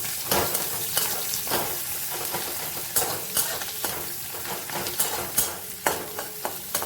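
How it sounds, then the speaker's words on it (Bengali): Sliced onions fry in a little oil, a steady close sizzle broken by repeated scraping strokes as they are stirred in the pan. "দেখো কম আছে পেঁয়াজটা কিন্তু ভাজা হয়ে গেছে কাঁচা ভাব আর নেই"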